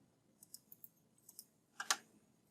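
Computer mouse clicks while working with the pen tool in Adobe Illustrator: a run of light, evenly spaced single clicks, then a louder, sharper double click near the end, with quiet between them.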